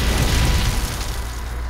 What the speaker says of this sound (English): He caused that explosion.